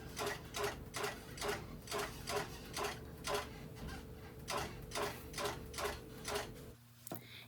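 A sewing machine basts down the side of a quilt on an edge-to-edge quilting setup. It runs in a steady rhythmic pulse of needle strokes, about two per second, with a low hum underneath, then stops near the end.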